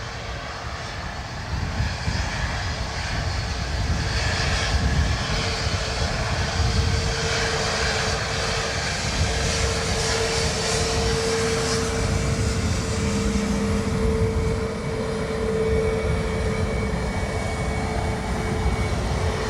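A Ryanair airliner departing Dublin Airport for Berlin in soggy crosswind weather gives a loud, sustained jet engine roar that holds steady throughout, with a slight dip near the end before swelling again.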